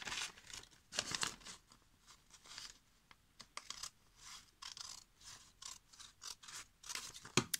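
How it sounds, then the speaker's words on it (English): Scissors snip along the paper edges of a craft envelope, a string of crisp, close cuts and rustles in irregular bursts with short pauses between, with no voices. "And cut also those edges here."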